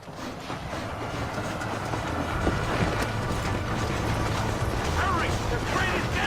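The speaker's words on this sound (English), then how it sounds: "The train is getting away!" A train rolls along in the game Red Dead Redemption, its wheels clattering and its cars grinding in a continuous loud rumble. Faint shouting sits beneath the rail noise.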